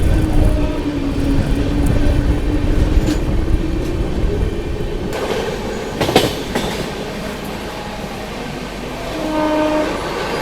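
A long-distance express train climbing the steep Khandala ghat, pushed from behind by banker locomotives: a loud continuous rumble and wheel noise with a sharp horn blast midway and squealing tones near the end, heard alone.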